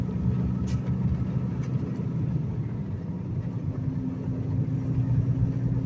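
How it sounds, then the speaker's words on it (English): Highway traffic rolls past a truck stopped near a Texas interstate mile marker, a steady low rumble and tire drone with no distinct single pass-by. "Like a bunch of traffic."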